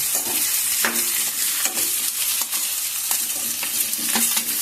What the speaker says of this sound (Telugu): బంగాళదుంప ముక్కలు వేసుకుని వాటిని బాగా కలుపుకోవాలి